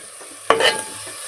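A single sharp stir of curry with curry leaves and a little yogurt in a frying pan, a brief scraping burst over a faint steady sizzle, alone with no voices.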